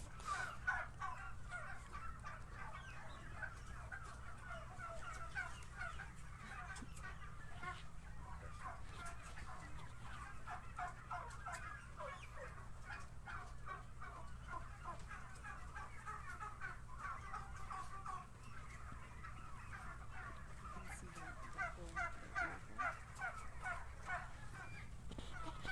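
Domestic white turkeys on a farm gobble and cluck steadily in a low, continuous chorus of overlapping calls, somewhat distant and faint.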